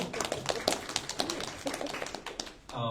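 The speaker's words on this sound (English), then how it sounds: "This is a nice, respectful round of applause" A theater panel audience gives a modest round of applause during introductions, steady overlapping hand claps at moderate, somewhat distant volume that taper off near the end.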